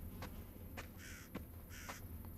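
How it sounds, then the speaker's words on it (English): Birds in a video game set in an abandoned village call with a few short harsh caws scattered over faint background ambience, distant and quiet, no speech. "It sounds like a little flock of sparrows going by."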